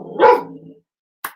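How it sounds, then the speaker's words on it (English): A single loud dog bark nearby, followed after a pause by a short, sharper yip. "The dog is barking."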